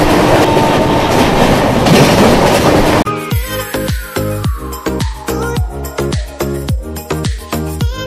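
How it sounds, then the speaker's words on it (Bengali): The Jammu Tawi–Sealdah Humsafar Express runs loudly. A dense rumble of passing carriages gives way to a rhythmic clickety-clack of wheels over rail joints, with a falling whine and no voices. "22-318 শিয়ালদা জম্মুতাই হামসাফার সাপ্তাহিক সুপারফাস্ট এক্সপ্রেস।"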